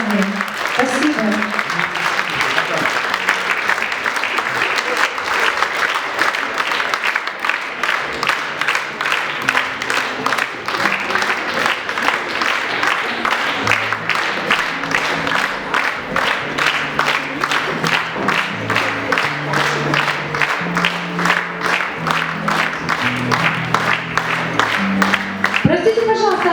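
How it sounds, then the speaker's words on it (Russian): Sustained, loud concert audience applause at the closing part of a concert, dense and steady throughout with a crowd roar and scattered cheers, while a voice talks over it. "Спасибо вам огромное за ваши аплодисменты,"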